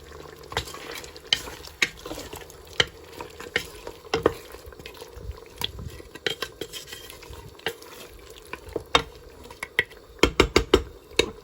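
Salted meat with spices stir-frying for haleem in a pot, a low sizzle under frequent sharp scrapes and clinks of a spoon against the metal.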